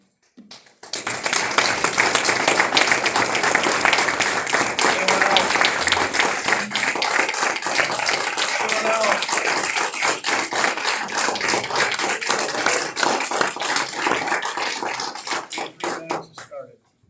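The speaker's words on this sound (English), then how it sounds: "While there's clapping going on, 3 minutes has started." A crowd applauds steadily for over fifteen seconds at a township planning commission meeting, dense clapping filling a room at close range, with a few voices mixed in before it tapers off.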